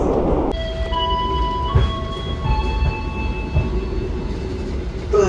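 Inside a KA Jayakarta passenger train running toward Madiun station: a steady, dense rumble of wheels on track, with thin, sustained squealing tones drifting above it.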